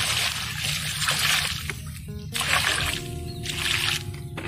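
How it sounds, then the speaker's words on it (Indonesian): Water poured onto the soil around a papaya plant just dressed with ZA and TSP fertilizer, a soft continuous trickle and splash close by, with faint voices and background noise. "Lalu kita siram."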